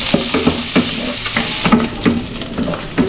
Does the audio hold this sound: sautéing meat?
yes